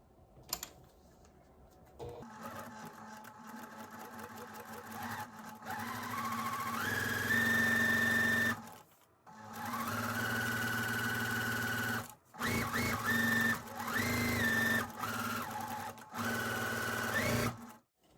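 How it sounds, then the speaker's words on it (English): Domestic sewing machine stitching pieced quilt fabric for a pinwheel star block, running in several bursts with short pauses, the motor hum and rapid needle clatter loud and close, no voices. "you can break thread, or you can just kind of sew on across and keep going"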